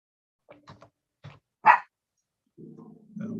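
A dog indoors barks a few times, short separate barks that are fairly close, with a quick louder yelp and then a low growling rumble at the end.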